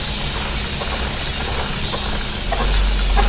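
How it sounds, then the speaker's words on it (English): Honda chain cleaner sprayed onto the chain of a 2018 BMW S1000RR motorcycle, a steady close hissing aerosol spray running throughout, swelling slightly louder near the end. "Using the Honda chain cleaner."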